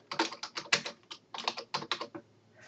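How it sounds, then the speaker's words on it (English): Rapid bursts of keystrokes on a computer keyboard while a page title is typed into a Drupal content form, close and clear, with short pauses between clusters of key presses and no talking. "type the title of your page"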